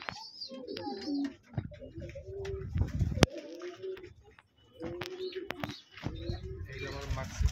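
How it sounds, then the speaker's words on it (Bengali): Pigeons in a loft at morning feeding, repeated soft throaty coos near at hand, broken by brief clicks and knocks, with a voice speaking quietly among them. "এই যে আমার মাক্সি কবুতরটা"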